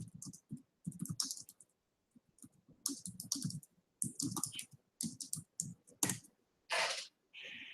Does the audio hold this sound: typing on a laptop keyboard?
yes